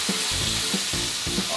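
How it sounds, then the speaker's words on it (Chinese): Chicken thigh steak pan-frying in oil, flesh side down, giving a close, steady crackling sizzle with soft, regularly spaced low thumps underneath. "咱准备来煎我们的鸡腿排"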